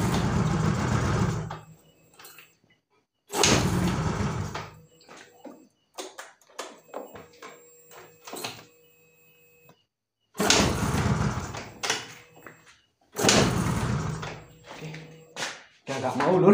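A Yamaha Mio Soul GT scooter engine with a fault that dies when throttled is cranked and started in bursts: several loud, broadband engine runs of about two seconds each, separated by quieter gaps with clicking and mechanical taps.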